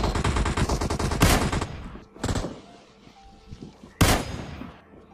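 Kar98 rifle shots ring out in the PUBG Mobile video game, a rapid crackle of gunfire at first, then two sharp, loud reports about three seconds apart, with quieter game sounds between.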